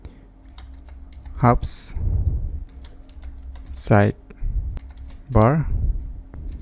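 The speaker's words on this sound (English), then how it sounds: "Just type this name hubs sidebar enabled and hit enter" Typing on a computer keyboard during a Windows tutorial: quick scattered key clicks and taps running faintly under a man's spoken instructions, with a few louder keystroke bursts between his phrases.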